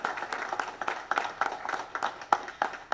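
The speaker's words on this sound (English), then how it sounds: "please give them a round of applause for all this amazing building" An audience at a Mazda 45th anniversary ceremony applauds in a steady patter of overlapping claps, moderately close and sustained throughout with no talking.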